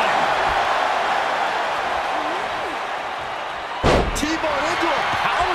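A heavy wrestling slam hits the mat in WWE 2K24, a single loud thud rising out of steady arena crowd noise and commentary, with the crowd swelling slightly afterward.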